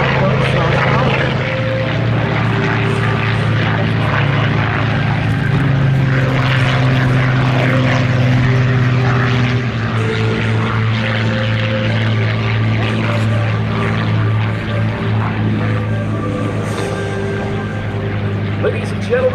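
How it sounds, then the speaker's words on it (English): A WWII Focke-Wulf Fw-190 propeller fighter of the German Luftwaffe performing a flyby at an air show, its loud droning engine sustained and shifting in pitch, with an announcer speaking over it. "flying in our famed fighter routine this afternoon, in the lead from the Luftwaffe of the German Air Force, the Focke-Wulf Fw-190"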